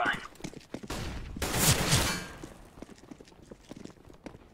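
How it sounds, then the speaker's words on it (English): A flashbang grenade goes off in a tactical shooter game, a sharp bang followed by a loud hissing burst for about a second amid scattered footsteps and game noise. "Deploying flashbang."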